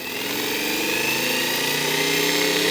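A starter motor driven by a homemade 24/36V motor controller whines steadily and loudly, a dense high-pitched electric hum with rising harmonics running continuously throughout.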